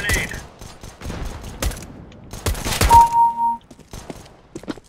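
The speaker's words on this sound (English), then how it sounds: "Throwing a grenade." During a Counter-Strike round, sharp gunshots and dull thunks come in irregular bursts, with a few louder thumps clustered near the middle against a quiet background.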